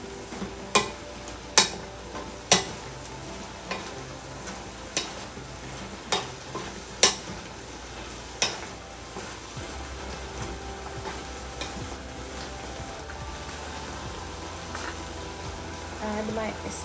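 Tofu and vegetables in chili garlic sauce sizzling in a pan while being stirred, a low steady hiss broken by a series of sharp utensil clacks against the pan in the first half, fairly close.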